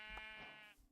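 A sheep in the video game Minecraft gives one short, close, wavering bleat, heard alone.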